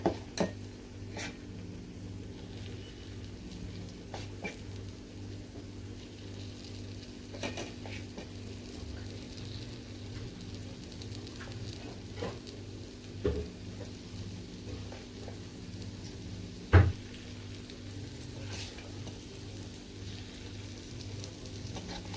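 Mixed-lentil appe batter frying in a greased appe pan, a steady continuous sizzle with faint occasional clinks, no talking.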